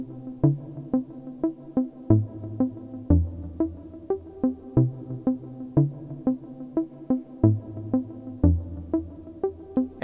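A short producer's melody extended into an AB section plays alone in a steady, repeating rhythm, with plucked or keyed notes over low bass hits that land about once per bar, and no talk.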